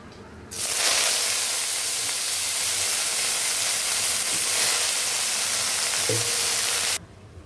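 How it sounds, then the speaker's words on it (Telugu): Fresh washed coriander leaves dropped into a spoonful of hot oil in a kadai give a loud, steady broadband hiss that starts abruptly, holds for about six seconds and then cuts off. "ఇదిగండి 1 స్పూన్ ఆయిల్ వేసాను. ఇప్పుడు కొత్తిమీర వేసేస్తానండి."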